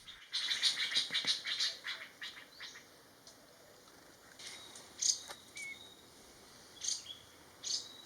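A Large Scimitar Babbler (Erythrogenys hypoleucos) in Thailand gives a series of faint, high chirping calls in short bursts with pauses between, set against a quiet natural background.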